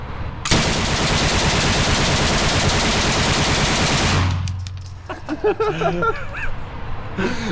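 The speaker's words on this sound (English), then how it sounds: "Second mag through the old sten here." An original World War II Sten submachine gun fires a long sustained burst, loud and close, for about four seconds before stopping, followed by faint clatter and a voice speaking.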